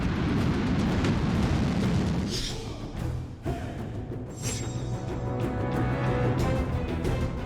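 A North Korean intercontinental ballistic missile test launch: a loud, sustained roaring rumble with heavy low-end thunder that dips briefly midway, then continues broad and powerful.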